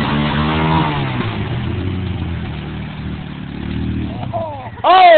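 Stuck vehicles rev their engines and spin their wheels, a loud, close engine drone that rises and falls under a voice shouting over it, with a fresh burst of revving at the end.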